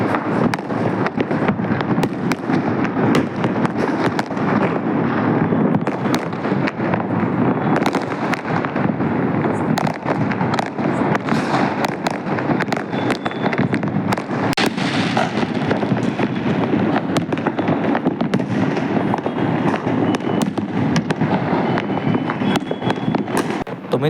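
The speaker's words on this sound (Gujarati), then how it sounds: "ફટાકડા ફૂટે જો તમને બતાવું જો ખાલી ફટાકડાની વાત ના પૂછો એવા ફટાકડા ફૂટે રાજકોટમાં તો" Diwali firecrackers and fireworks burst across Rajkot as heard from a rooftop terrace: a dense, nonstop crackle of pops and bangs, near and far, with wind buffeting the microphone.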